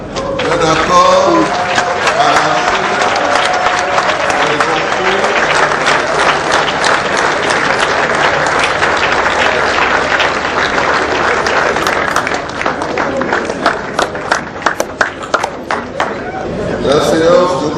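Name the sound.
assembly applauding and acclaiming the political accord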